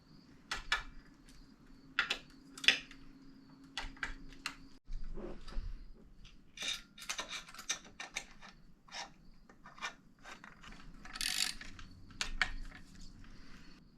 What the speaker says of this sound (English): all we have to do is come up top, screw it into the bolt holes